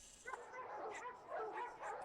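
About five dogs barking and yipping together, a busy overlapping chorus of fairly faint, slightly distant barks lasting a couple of seconds.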